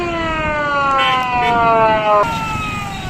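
An ambulance siren wails loud and close on the Haro bridge at Attock, its road blocked by sand trolleys and containers, with steady rising-and-falling tones and traffic rumble beneath.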